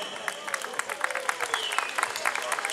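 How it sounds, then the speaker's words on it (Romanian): Crowd clapping at an outdoor harvest festival stage in Reșița, Romania, with distinct, fairly quiet claps scattered throughout, mixed with voices and a tonal background sound. "Petrică Popovici, aplauze!"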